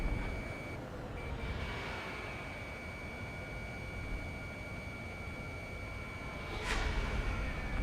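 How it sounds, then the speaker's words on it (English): A steady high electronic warning tone drones through Ace Combat 7 as the aircraft ices up, sounding alone and unbroken over a constant roar of wind and engine, with a brief sweep of sound near the end. "The aircraft is icing up. I'm getting a warning."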